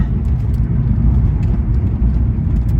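Holden VR ute fitted with a new front-wheel-drive Pontiac engine, cruising around the block on a cold day with a continuous low, rumbling engine and road noise, close and fairly loud, no talking.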